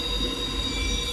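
A train rolls past close by, a steady loud rumble with high, sustained wheel squeal on the rails, lasting about a second without any speech.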